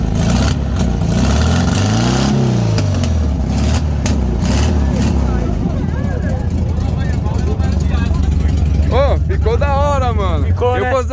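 A lowered white 1975 VW Beetle's small engine revs and rumbles loudly through its exhaust, pitch rising and falling, while people talk over it.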